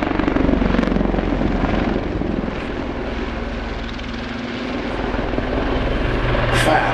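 A Royal Navy Lynx HAS3 helicopter of 815 Squadron displaying at the East Fortune Airshow 2009, a loud continuous rotor and engine roar with a public-address commentator talking over it.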